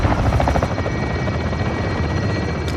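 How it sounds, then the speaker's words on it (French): A loud, close enemy helicopter in the video game Modern Warfare drones with a steady rotor thrum and engine whine, holding constant for nearly three seconds with no speech. "Hélico ennemi en approche."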